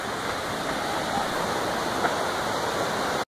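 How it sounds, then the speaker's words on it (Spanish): Steady, full roar of a waterfall at Aguas de Ramón, a continuous broadband rush of falling water heard close and alone for a few seconds. "Esta excursión para ver esta hermosa cascada."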